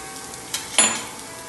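Mole sauce with onion and garlic sizzling in a pan, a soft hiss that flares suddenly as the ingredients go in and then settles, close and fairly loud, with no talk.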